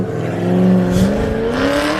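Drift car engine revving hard as the driver initiates a drift at a British Drift Championship Pro 2 qualifying round at Teesside, a loud sustained rising engine note close by, with a brief dip mid-clip.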